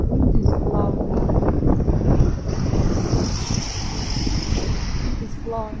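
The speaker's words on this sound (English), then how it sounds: "Wind is blowing up." Wind blowing hard outdoors, a loud, continuous rushing roar that buffets the microphone steadily throughout with no break.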